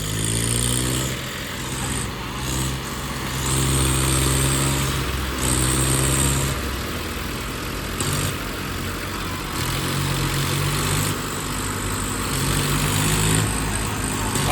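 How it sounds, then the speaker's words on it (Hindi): Three tractors on an off-road track strain together to pull a stuck vehicle, their diesel engines droning loudly and continuously with surging, revving pulses close by. "लो भाई तीनों लग गए ट्रैक्टर।"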